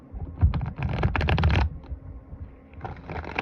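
Tarot cards being shuffled by hand during a live reading, a dense riffling and rustling burst that stops, then a shorter second burst, close and fairly loud, with no talk.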